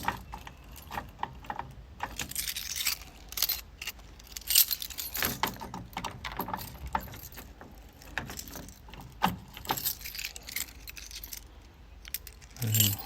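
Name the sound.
Land Rover Defender keys jangling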